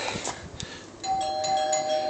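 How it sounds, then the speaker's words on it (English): A doorbell chimes clearly, a two-tone ring that sustains and rings out after a few soft knocks or taps. "Ring the doorbell. You can see the doorbell works."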